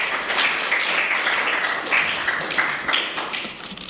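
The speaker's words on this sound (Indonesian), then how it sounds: "Aplaus buat Teguh" Students in a university classroom applauding a classmate, steady close group clapping for several seconds that thins out toward the end.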